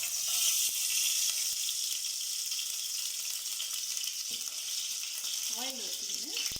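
Oil pours into a hot pan for a Tamil home-cooked lunch of fish fry, setting off a steady, loud broadband sizzle that fills the whole stretch, with brief utensil tones near the end.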